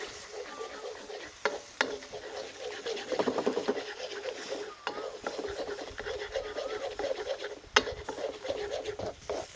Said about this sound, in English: And we start breaking up the eggs.